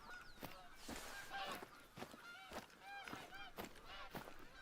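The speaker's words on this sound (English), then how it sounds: "Plenty of geese to be had, but we only need one." Canada geese in theHunter: Call of the Wild honking repeatedly from a flock, overlapping calls scattered at varying distances, fairly quiet with occasional rustling between them.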